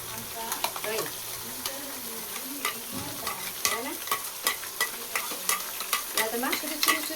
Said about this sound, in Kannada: ಓಕೆ, ಇದು ಫ್ರೈ ಆಗ್ತಾ ಇದೆ. ಇದು ಫ್ರೈ ಆಗಬೇಕು.